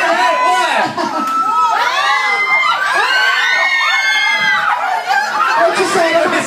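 A crowd of children shouting and cheering, loud and close, with overlapping high whoops and screams rising and falling continuously, thick with excited chatter throughout.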